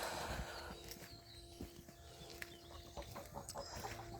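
Ducks and geese on a farm, with scattered quacks, honks and clucks close by amid rustling and shuffling movement.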